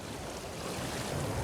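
Steady broadband roar of ocean surf at a small harbour on Jeju, waves breaking over the tetrapod breakwater, continuous and fairly loud with wind noise mixed in and no voices.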